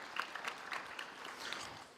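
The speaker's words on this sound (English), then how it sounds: "Can you give them a round of applause," An audience at a university graduation ceremony claps, a soft, distant, steady patter of applause in a large space with no voices over it.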